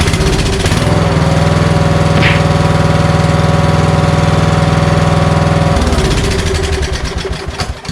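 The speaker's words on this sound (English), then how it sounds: "I actually didn't have high confidence that my rebuilt engine was going to run this well" A rebuilt Kohler Courage engine on a Toro LX460 lawn tractor runs close and loud with a steady, throbbing rumble, then drops off near the end to a rougher, uneven idle.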